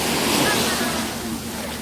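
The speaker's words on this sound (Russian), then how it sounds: "27 ноября, море." Sea waves wash onto Dadonghai beach on Hainan along the South China Sea, a soft continuous surf rush with some wind noise, brief and moderately faint.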